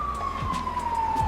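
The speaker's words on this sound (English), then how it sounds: "Oh, that's the ambulance coming to pick me up." An ambulance siren passing outdoors, a steady wailing tone drifting slowly in pitch, moderately loud and continuous, under background traffic rumble and a few faint thumps.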